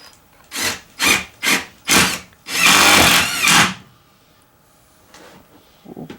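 A power drill drives a screw into a wooden floor board: four short whirring bursts, then one longer sustained run, loud and close, followed by quiet with faint handling noises.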